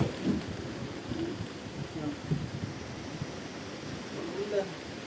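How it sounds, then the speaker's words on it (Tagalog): Steady rain hisses as a broad, even wash of noise, with faint murmurs of voices beneath it. "Ulan na naman mga kasuyo."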